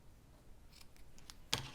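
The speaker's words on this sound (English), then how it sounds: "Trim up the ends" Scissors trim the loose ends of a craft knot in a few quiet, separate snips, the last cut sharper and closer than the rest, with no voices.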